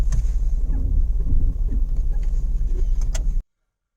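A Range Rover Velar's handbrake is applied with a brief mechanical click and whir near the end while the car sits in park on a hill, over a low idling hum before the sound cuts off.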